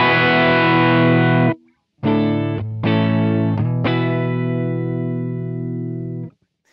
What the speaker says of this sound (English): it lends itself to setting at a certain distortion level and letting your guitar volume really set the amount of drive through the system